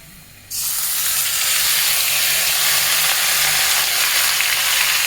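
Bottle gourd greens drop onto browned onions in a hot pan, and a loud hiss bursts out and then holds as a dense, steady frying sizzle close by.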